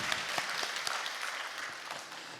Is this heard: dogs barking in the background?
no